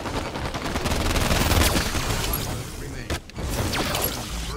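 Rapid shotgun and gunfire blasts crackle in a Halo 5 Infection match, dense and continuous with a brief gap near the end, as players talk in the background.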